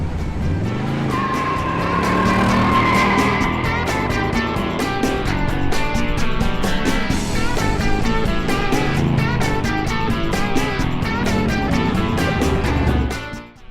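A car burns rubber with tires squealing loudly and steadily while the engine roars underneath, one continuous screech for over ten seconds before cutting off abruptly.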